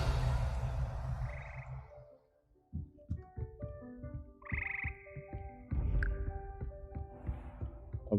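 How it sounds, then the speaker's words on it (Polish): Frogs croaking in the video game Hogwarts Legacy, a series of deep, rhythmic croaks and throaty pulses, close and fairly quiet, mixed with brief higher chirping calls and soft ambient tones. "A, tu są żaby."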